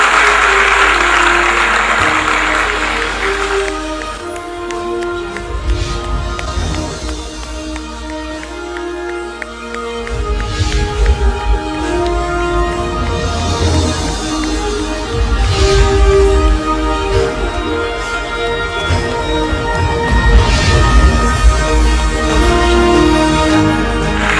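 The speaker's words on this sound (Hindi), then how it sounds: "आप सभी की जोरदार तालियां।" Applause from an audience at an inauguration ceremony for national highway projects in Haryana runs under loud music for the whole stretch.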